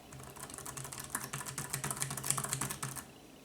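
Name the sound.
typing on Lenovo ThinkPad Compact USB Keyboard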